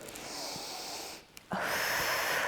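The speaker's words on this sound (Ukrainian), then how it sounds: "Тепер поворот грудиною, видих і вдох і видих" Deep breathing during a morning exercise routine for ankylosing spondylitis, a long breathy exhale, a short pause, then a sharper, louder breath, close to the listener with no talking.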